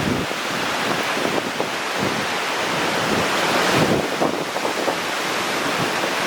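Hurricane Ian's wind roars across Florida in a dense, continuous rush with surging gusts buffeting the microphone, loud and steady throughout with no talk.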